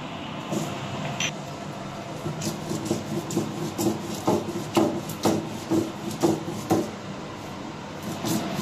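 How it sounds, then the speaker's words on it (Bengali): Poppy seeds ground by hand on a grinding stone, the stone rubbing and rasping in a steady back-and-forth rhythm of short strokes, close and clear with no talking. "তা আমি পোস্ত নিয়েছি, পোস্তটা বেটে নেব।"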